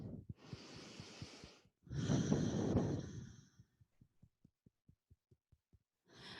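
Close breathing into a microphone held just below the nose, with two long breathy exhales or inhales, followed by a soft rhythmic series of low thumps and then a final breath.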